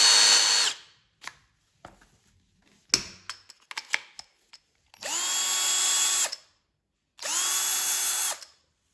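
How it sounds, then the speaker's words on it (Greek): Parkside Performance 12V cordless drill with a brushless motor spins up in two steady bursts of about a second each, a high, smooth whine close by, after some clicks and handling taps. "Και τελείως διαφορετικός θόρυβος. Φυσικά ένα μοτέρ χωρίς καρβουνάκια."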